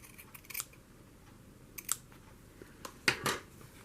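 Scissors snip through cotton batting for a handmade junk journal, four crisp, separate cuts spaced a second or so apart against a quiet room.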